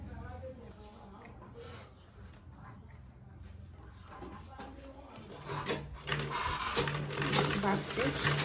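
A sewing machine top-stitches a clutch purse, its rapid mechanical whirr rising louder toward the end amid handling clicks, with a voice talking over it.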